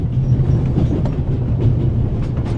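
A train runs on rails in The Raven - Legacy of a Master Thief adventure game, a loud continuous low rumble with steady rhythmic clatter of wheels, close and unbroken, no voices.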